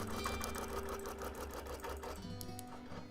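A sewing machine runs steadily while free-motion quilting mod boxes on a quilt, a fast continuous mechanical whir and needle clatter close by that slows slightly near the end.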